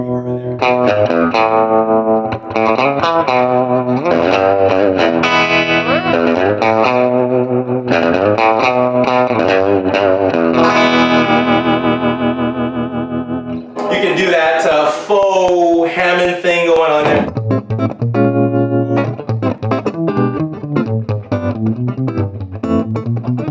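Electric guitar played through a Swart AST Pro amplifier with a surf tone, drenched in reverb and effects, ringing chords and quick picked runs, loud and continuous with a brighter burst midway.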